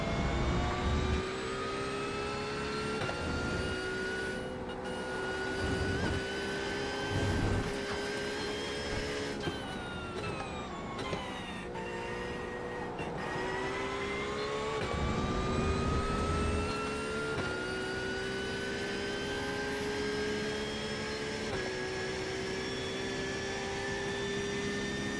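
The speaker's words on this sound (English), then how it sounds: "I do love the sound of this Porsche. Certainly not a mean sounding car. Smooth sounding car." A Porsche GT3 race car engine at Road America sounds smooth and sustained, pitch rising through the gears, dipping at a shift or braking point midway, then climbing again under a steady, moderately loud drone.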